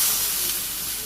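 Water poured into a pan of sautéed potato and pointed gourd curry in a village kitchen, producing a short, close burst of steamy hissing sizzle.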